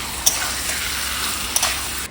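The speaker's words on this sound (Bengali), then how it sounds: "দেখো এখানে মাটনটাকে দিয়ে দিলাম এবারে কষাবো" Mutton pieces sizzle steadily in a hot pan, being browned for a Bengali curry, with a constant close-up hiss and two brief sharper crackles.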